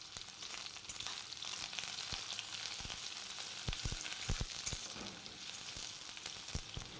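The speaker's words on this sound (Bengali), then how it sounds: "গরম তেলে ফোড়ন হিসেবে একটা শুকনো লঙ্কা দিয়ে পেঁয়াজগুলিকে দিয়ে দিচ্ছি।" Onions and a dried red chilli frying in hot mustard oil in a kadai, a steady close sizzle with scattered sharp crackles and pops throughout, no voices.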